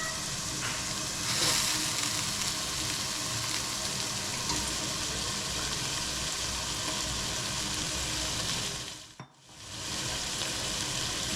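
Potatoes and green chilies fry in a pan for a biryani, a dense, continuous close sizzle that holds steady and briefly drops out near the end, with no talking.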